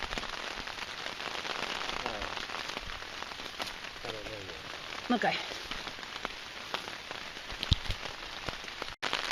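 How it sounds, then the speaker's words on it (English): Steady patter of rain drumming on a taut tarp overhead, dense and continuous, with a brief spoken word and some movement noises mixed in. "Can you hear the rain?"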